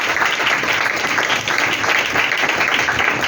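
A church congregation at a Sunday worship service clapping loudly and continuously for the choir, a dense, even roar of many hands throughout.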